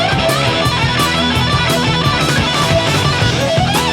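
Electric guitar lick, a busy run of distorted rock notes over backing, loud and continuous with no talking.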